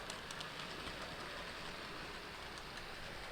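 Farish N gauge LMS Class 4F model locomotive running on track, a faint, steady rolling rumble and hiss with no breaks.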